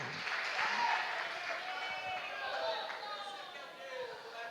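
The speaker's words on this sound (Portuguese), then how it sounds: "Aplauda Jesus de Nazaré." A church congregation applauding during a worship teaching service, broad sustained clapping heard at a moderate distance, with voices mixed in over it.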